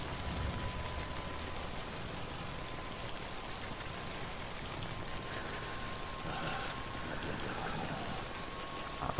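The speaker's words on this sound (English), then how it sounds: "Well, it's raining" Steady rain falls in the video game Death Stranding, a continuous dense hiss of drops and splatter that fills the whole stretch at an even, fairly loud level with no clear voices over it.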